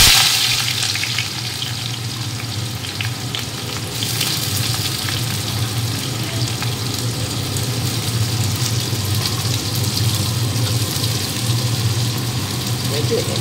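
Sliced onions frying steadily in hot oil for birista, a crisp fried-onion garnish for homemade mutton biryani, with a constant low crackling sizzle and a faint hum throughout.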